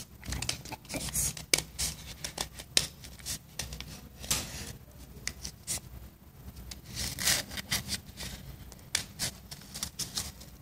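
Scissors snipping through paper for a handmade mini pocket notebook, a close run of crisp irregular cuts with brief pauses between strokes.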